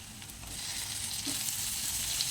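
Chopped tomato goes into a frying moringa leaf and lentil curry, and a dense, continuous sizzle rises slightly and holds steady close by, with nothing else heard.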